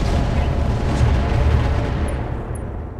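Weapons discharge all at once from heavy 100-ton mechs in Roguetech, the BattleTech game, making a loud, rumbling barrage of booms and cannon fire that slowly fades toward the end.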